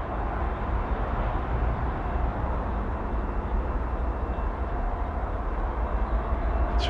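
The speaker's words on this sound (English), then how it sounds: "I hear the train thing off the distance." A steady, distant rumble of a train, heard at night outdoors near a junkyard as a continuous low drone with no distinct clatter.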